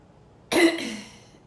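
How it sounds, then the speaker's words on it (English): A single sharp cough bursts out close to the mic, trailing off into a brief raspy tail against a quiet background. "I've never coughed this much on a fucking video before"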